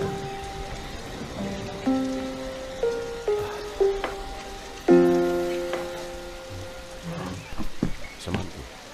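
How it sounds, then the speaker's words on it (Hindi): Steady rain falls through a scene in a Hindi feature film, a constant wash of drops under a series of sustained tonal notes that ring out and fade, with no voices. "बारिश हो रही है"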